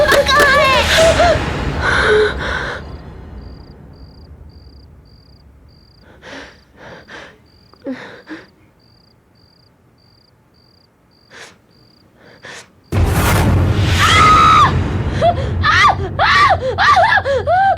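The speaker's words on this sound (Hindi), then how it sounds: "तुम ऐसी चीखी क्यों?" A woman screams in fright inside a house during a horror drama, first in a loud burst, then again after a hushed stretch of faint breaths and small noises. Sustained, loud, close shrieking and harsh breaths follow, with a cricket-like whine in the background.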